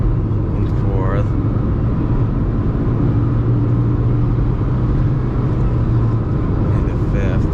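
A manual car with a tight shift pattern and a smooth clutch pulls up through the gears, its engine a steady, loud, close rumble with a rising whine after a brief change near the start.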